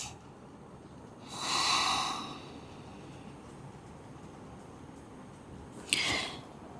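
Two slow breaths during a yoga session for hip mobility, a long soft exhale followed later by a shorter, sharper breath out through the nose, close and fairly quiet over a faint steady hiss.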